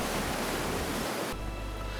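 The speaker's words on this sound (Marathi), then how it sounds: "लाटा अक्षरशः रस्त्याच्या बाजूला आदळत होत्या." Sea waves crash beside a coastal road at Anjarle, a continuous loud, hissing wash of surf that cuts abruptly to a slightly quieter, steadier rumble partway through.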